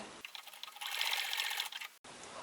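A sewing machine stitches diagonally across a reversible tote bag, a fast, even mechanical whir running steadily for about two seconds at close range, cutting off abruptly with no voices.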